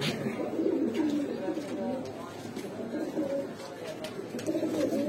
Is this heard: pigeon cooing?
yes